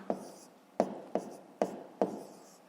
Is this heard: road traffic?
no